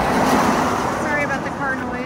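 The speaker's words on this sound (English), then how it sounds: "Sorry about the car noise" Steady road traffic rumbles close by on a bridge in Richmond, Virginia, a continuous wash of passing vehicles.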